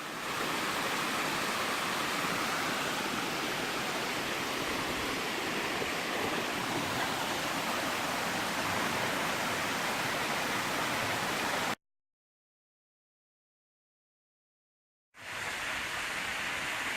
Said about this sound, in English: In Kevin Adams' old book and online, this is just called Waterfall at Falls Ridge.